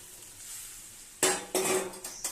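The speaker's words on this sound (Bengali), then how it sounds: "জলটা একটু ফুটে গেছে, তো আমি মাছগুলো দিয়ে দিচ্ছি" Fish dropped into a pot of boiling water, with a few sharp clattering splashes and pot knocks in quick succession close by after a quiet simmering stretch.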